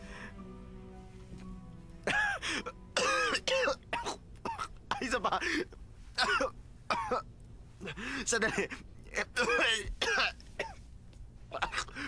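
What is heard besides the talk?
coughing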